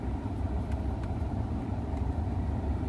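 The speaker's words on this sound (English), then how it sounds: "blower motor's working" Blower motor of a Ford F-150 truck running as a steady, low, even whir for a few seconds.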